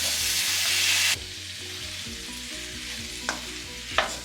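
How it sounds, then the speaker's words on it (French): Tomatoes go into a hot pan of spiced rougail sausages. A loud burst of sizzling comes first and drops away suddenly, leaving a softer steady fry, with two sharp utensil scrapes near the end. "On va incorporer nos tomates."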